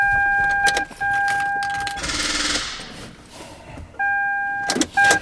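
A Lexus with a weak battery fails to start, giving repeated electronic warning chimes, a short strained starter whir and clicks, then more chimes, loud and close inside the car.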